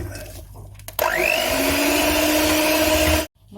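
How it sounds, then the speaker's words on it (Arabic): An electric hand mixer whirs on abruptly, beating cherry cake batter with a steady buzzing drone for about two seconds before cutting off sharply. "وبنخفق المكونات كلها لحتى"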